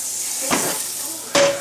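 Butter sizzling in a frying pan for chickpea pancakes, a steady close hiss broken by two sharp clinks of a utensil against the pan.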